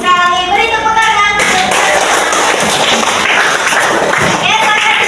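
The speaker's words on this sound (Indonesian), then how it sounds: "Beri tepuk tangan." Classroom applause from a group of students clapping together, a dense burst of hand claps close by that runs on steadily, with a teacher's voice heard briefly at the start.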